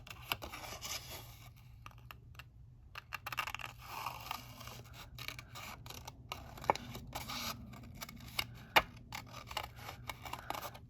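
Scissors cutting out a paper tessellating shape, quiet intermittent snips and rustling paper scrapes close by, with a couple of sharper clicks standing out over a soft background hum.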